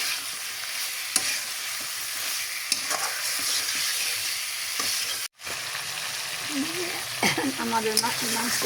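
Chicken wings sizzle steadily in a pan while being stirred, with occasional scraping knocks, a brief dropout midway and a voice joining near the end.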